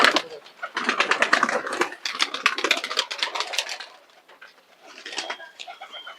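A Lal Pari pigeon coos close by in rapid bursts of throaty, rolling calls, with a short quiet gap before a final run of cooing.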